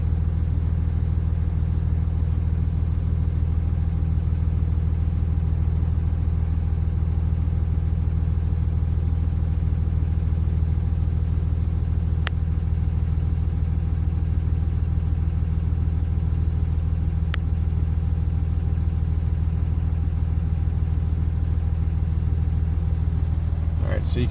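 A 5.9 Cummins engine running a custom tune drones steadily at raised RPM during a cylinder performance test, with a constant low rumble and hum for the whole stretch.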